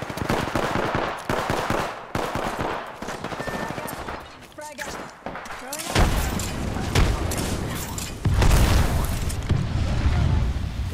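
A frag grenade thrown and exploding during an Apex Legends match, heard amid a dense stretch of rapid gunfire bursts and booming blasts that thickens into a heavy, sustained roar toward the end.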